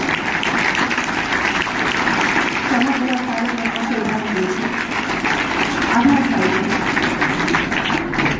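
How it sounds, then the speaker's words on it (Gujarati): An audience at a school mathematics and science event applauds steadily throughout a ceremony where a guest is presented with a bouquet and shawl, and voices are audible under the continuous clapping. "તમારી તાળીઓ જ"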